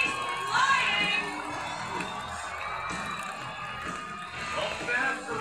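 A crowd of spectators cheers and shouts for a horse rider at the Sydney Royal Easter Show arena, a sustained lively roar with children's shrieks, under an announcer talking over a public address system.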